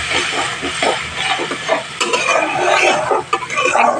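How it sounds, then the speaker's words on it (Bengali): Cashew, raisin and green chilli paste masala sautés on a low flame for kaju potol, giving a close, hissing sizzle with uneven bursts of stirring and scraping throughout, no talking. "গ্যাসের ফ্লেমটা একদম লোতে রেখে মশলাটা কষিয়ে নিতে হবে।"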